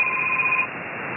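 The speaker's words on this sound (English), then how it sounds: "Get the phone." A telephone rings once with a bright electronic double tone that cuts off after about half a second, leaving a faint hiss.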